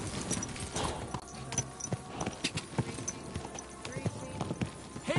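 Rhythmic clip-clop of horse hooves in the video game Kingdom Come: Deliverance II, fairly close, with occasional snorts and a voice speaking over them.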